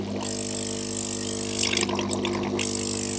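A new Hailea ACO-318 air compressor in a fish shop drives air into a water tank, producing steady vigorous bubbling and splashing over a constant motor hum, close and continuous throughout.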